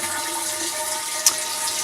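Water is poured steadily into a sanitized keg, three gallons going in for homemade root beer, giving a continuous close rushing, splashing wash with one brief louder splash near the end and no talk.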